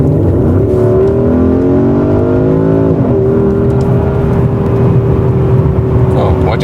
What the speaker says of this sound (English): You can enjoy the sound once more and this acceleration together with us.